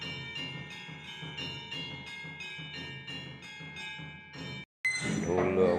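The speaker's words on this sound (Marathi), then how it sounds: "घंटा निनादी होत आहे" A temple bell rings steadily in repeated strokes during the incense aarti at a Shimga festival temple, loud and close, then cuts off abruptly into a burst of crowd noise and drumming.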